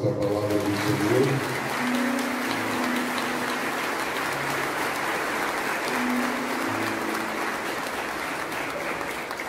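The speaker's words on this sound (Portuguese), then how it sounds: "Uma salva de palmas à palavra do Senhor." A congregation at a Catholic novena Mass for Senhor Bom Jesus de Arujá claps steadily and fairly loudly, a dense wash of hands with faint sustained tones beneath.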